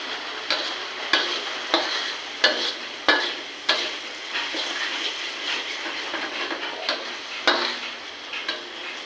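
Whole cumin seeds sizzle in hot oil while being stirred in a pan, with a steady crackling hiss and repeated sharp scraping clicks of the spoon roughly every half second, close and moderately loud, no voices.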